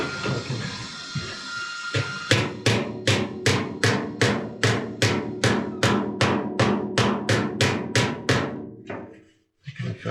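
Hammering on the sheet-metal roof of a 1948 Ford truck, about sixteen sharp, ringing blows in a steady even rhythm, close and loud, ending with a short silence.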